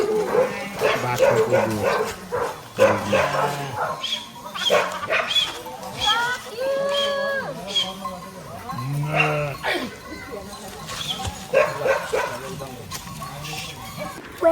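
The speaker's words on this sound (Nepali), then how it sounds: "भोटे कुकुरले अर्को कुकुरलाई लखड्दैछ" A Bhote dog chases another dog near Ghale Gaun, Nepal; several dogs bark and yelp excitedly in repeated bursts, close by, with whimpering yips between barks and people talking in the background.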